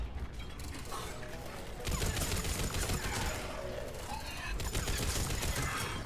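Weapon fire in the Mass Effect video game, a dense, continuous mechanical rattle of rapid shots that grows louder partway through and keeps up without a break.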